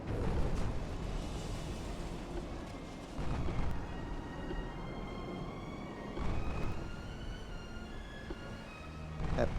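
A torpedo strikes a warship in Ultimate Admiral: Dreadnoughts, producing muffled, heavy explosions that swell in rough bursts over a constant low rumble, with faint voices underneath.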